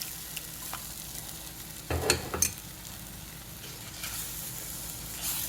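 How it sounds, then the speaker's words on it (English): Cornflour slurry is stirred into sweet and sour chicken sauce in a pan. A quiet, steady simmering sizzle carries a brief burst of spoon scraping and clinking partway through, heard close with no talking. "Then just stir and allow it for it to stick."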